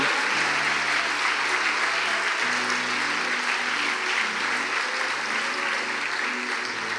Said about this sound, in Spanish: honremos el nombre de Dios con un fuerte aplauso, hermanos